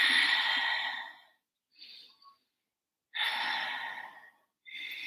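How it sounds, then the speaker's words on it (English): Slow, audible breaths during a beginner yoga pose, with two long airy exhalations separated by quiet gaps and a softer short breath between, close and alone. "Take 2 breaths."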